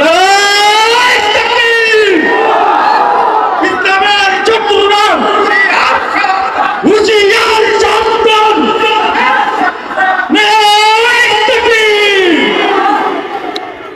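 A large outdoor religious rally crowd chants the Nara-e-Takbir response in unison, loud massed voices rising and falling in repeated rhythmic phrases that fill the whole stretch.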